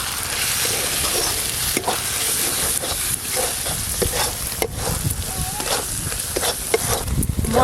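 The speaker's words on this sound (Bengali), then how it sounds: "গুঁড়ো মশলা দেওয়ার পর মশলা একটু ভালো করে ভাজা ভাজা করে নিয়েছি" Ground cumin, coriander, chili and turmeric fry in oil with ginger, garlic and onion paste, a loud continuous sizzle broken by repeated scraping stirs of the spoon against the pan, close up and without speech.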